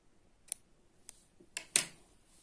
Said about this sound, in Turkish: makasla dibinden ipimi kesiyorum